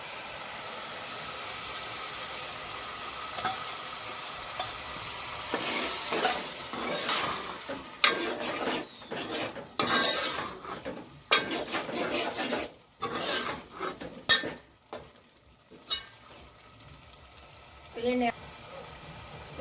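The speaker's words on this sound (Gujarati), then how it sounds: "એને હવે આપણે થોડી વાર શેકાવા દઈએ." Chili powder and spice masala roasting in a pan for a jackfruit curry, heard as bursts of scraping and stirring over a soft sizzle, loudest midway and fading toward the end.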